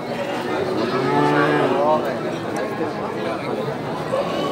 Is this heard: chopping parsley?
no